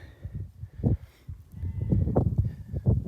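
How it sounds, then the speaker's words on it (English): Sheep bleat a few times nearby in short wavering calls over a low rumbling background. "Sheep."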